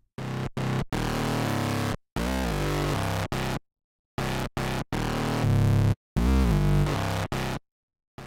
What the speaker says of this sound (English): and fuzz, the brightest and most broken sound.